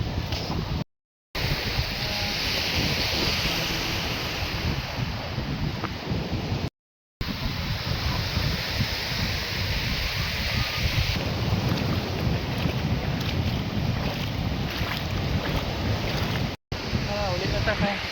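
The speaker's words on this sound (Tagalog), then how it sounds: "Hangin to" Sea wind blowing hard at the shore, a loud continuous roar and buffeting against the microphone over the rush of surf, with brief dropouts and a person speaking faintly beneath.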